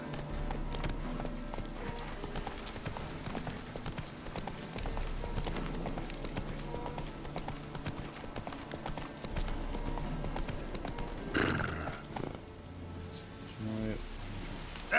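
Roach, Geralt's horse in The Witcher 3, gallops with a steady rhythmic clip-clop of hooves under game music and rain-like ambience, with a brief louder burst near the end.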